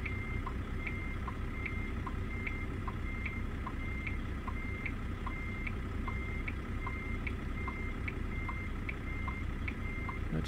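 Steady electronic reversing beeps sound in a regular, evenly spaced rhythm from a semi-truck backing up in American Truck Simulator, over a constant low engine rumble with no talking.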